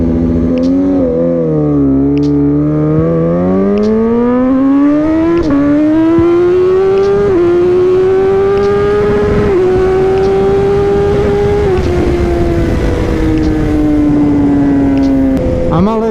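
A motorcycle launching hard from 5,000 RPM on launch control, its engine howling loud and close as the pitch dips, then climbs steadily through a long pull with brief shift breaks, wind roar running underneath.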